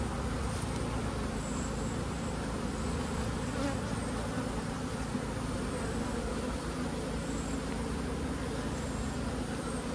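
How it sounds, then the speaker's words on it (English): Honey bees in an open hive during an early-season inspection, a dense continuous buzzing hum at close range, steady and even throughout with no voices. "I can see the odd fluffy silvery bee in here as this population grows."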